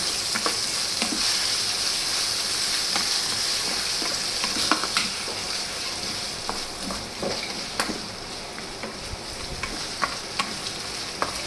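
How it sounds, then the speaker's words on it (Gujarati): Onion fries in a pan with potato peels while being stirred, a steady sizzle broken by irregular scraping clicks of the spoon against the pan. "ડુંગળી નખાઈ જાય ને પછી થોડીક વાર આમાં હલાવવાનું છે"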